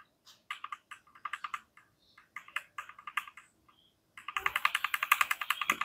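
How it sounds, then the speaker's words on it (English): Computer keyboard delete key mashed repeatedly while a PC restarts into the BIOS, quick bursts of sharp plastic clicks, then a fast steady run of taps near the end, close up and without talking. "You might hear me mashing the delete key."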